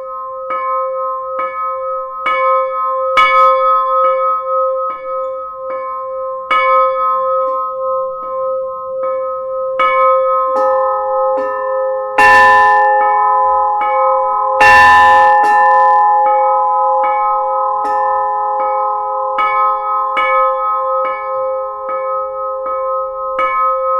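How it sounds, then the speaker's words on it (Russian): A church bell rings repeatedly in a steady rhythm while its own tone keeps sounding underneath. Each new strike layers over the sustained hum, and a couple of louder clangs cut in midway, clear and close. "звуки из этого же колокола создаем уже на фоне его же собственного звучания."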